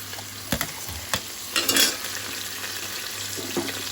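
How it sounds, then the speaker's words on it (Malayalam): Chopped garlic hits hot oil in a home kitchen pan for a chicken biryani, giving a close, steady sizzle with a few sharp clinks of stirring and no voices. "ചൂടായ എണ്ണയിലേക്ക് നമുക്കിനി കുറച്ച് നമ്മൾ അരിഞ്ഞ് വെച്ചിരിക്കുന്ന വെല്ലുള്ളി ഇട്ട് കൊടുക്കാം."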